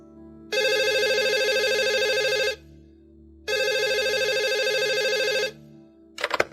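A telephone bell rings in two long bursts separated by a pause, loud and close, with a brief click or pickup at the end and no talking.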